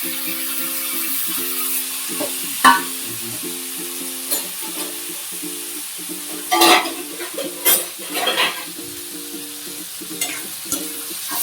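Chopped tomato, onion and chili frying in a pan for a home-style egg curry, with broad steady sizzle, scattered scraping stirs and clinks of a spoon against the pan, and a faint tonal hum running beneath throughout.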